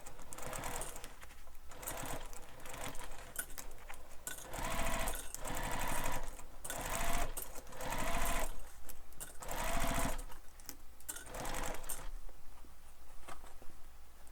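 Sewing machine stitching a crossbody bag, running in steady bursts of rapid mechanical chatter with short pauses between seams, close and fairly loud throughout.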